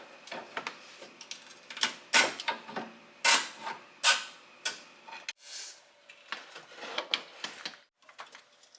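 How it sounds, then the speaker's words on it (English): A Chevy Corvette steering rack is worked up and out during a bushing replacement. Close, irregular metallic clicks, knocks and short scraping bursts come in uneven clusters, with no talking. "Now we can see about sliding the rack up and out of our way."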